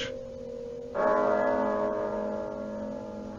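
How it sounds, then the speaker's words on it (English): A church bell tolls the hour in a radio drama of A Christmas Carol: one loud, resonant strike about a second in, its hum ringing and slowly fading. "But as the bell sounded"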